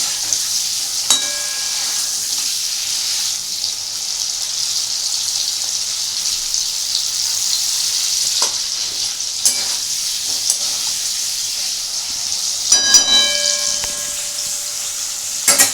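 Paneer cubes frying in oil for a dhaba-style paneer mushroom masala, a steady close sizzle with occasional metallic scraping and stirring clatters, no talk.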